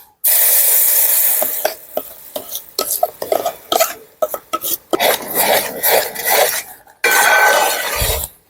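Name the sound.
ground jackfruit paste added to the pan for halwa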